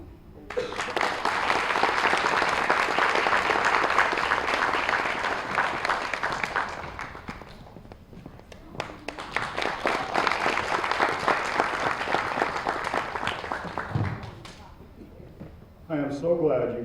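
An audience at a teachers' awards ceremony applauds in a long, dense wash of clapping that rises, dips and swells again, then fades out into a voice speaking near the end.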